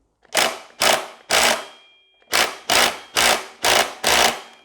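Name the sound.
impact driver on a motorcycle axle bolt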